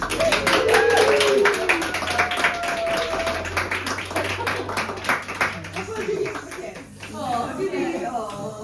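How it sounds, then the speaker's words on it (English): Guests at a celebration for a child named Finn give the guide parents a round of applause, with clapping throughout, cheerful voices and a voice mixed in. "let's give our guide parents a lovely little round of applause"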